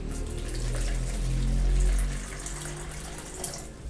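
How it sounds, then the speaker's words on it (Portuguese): Hot water pours steadily into a small bowl, a close, continuous splashing trickle that swells briefly and then settles, with no talking over it. "Voltei com uma tigelinha e um pouco de água quente. Então a gente vai colocar um pouco de água quente aqui."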